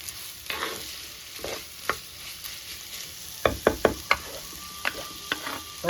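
Onions sauté and sizzle steadily in a pan at close range, with a spoon scraping and stirring through them in irregular clacks and scrapes.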